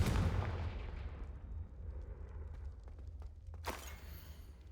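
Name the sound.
Confringo fire spell blasting in the video game Hogwarts Legacy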